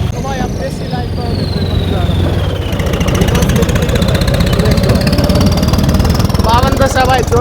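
A John Deere 5210 tractor runs nearby with a loud, steady low engine drone and rapid mechanical chatter that holds level the whole time, with someone talking over it.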